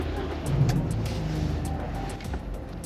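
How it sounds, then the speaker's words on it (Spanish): A Dodge Attitude GT 2025 engine starts at the push of a button: a brief rise as it catches around half a second in, then a steady low idle rumble holds close and moderately loud, with no talk. "Encendido por botón."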